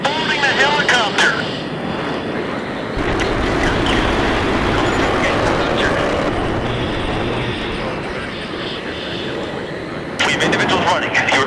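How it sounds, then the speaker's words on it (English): Helicopter in the Battlefield 3 video game, a steady broadband rotor and engine roar that fills the whole stretch at high level, with radio-style voices talking over it. "Boarding the helicopter."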